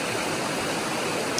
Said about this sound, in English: this is Chester Creek.